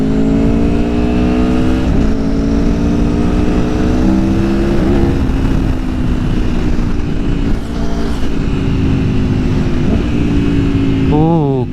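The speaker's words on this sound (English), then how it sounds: "Let's start with a little acceleration test." A 2019 Aprilia Tuono Factory motorcycle accelerates hard, its engine note climbing loud and close through repeated rising pulls with quick upshifts, the tone dropping briefly at each shift before winding up again.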